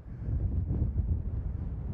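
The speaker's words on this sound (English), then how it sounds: "Bit windy, granted." Wind blows across the summit of Skiddaw in the Lake District, a steady low rumble of gusts buffeting the microphone at moderate level with no other sounds.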